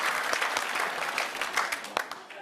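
A television panel-show studio audience applauds in a dense, sustained wash of clapping that swells and dips across the whole stretch, with a few sharper individual claps standing out near the front.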